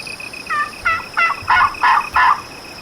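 A wild turkey gobbles in a loud, rapid burst of six rattling notes at dawn, clear over steady outdoor background hiss.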